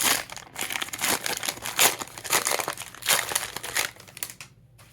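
Foil wrappers of 2023 Donruss football value packs are torn and crumpled open up close, a busy run of crinkling and ripping bursts that keeps going with only short pauses.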